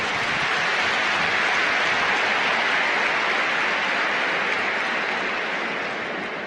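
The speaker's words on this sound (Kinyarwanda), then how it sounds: "Twongere tubashimire cyane tubaha amashyi kwayo" A large audience applauds at a presidential inauguration ceremony for Paul Kagame in Rwanda. The clapping is loud, dense and continuous, like a steady roar, and eases slightly at the end.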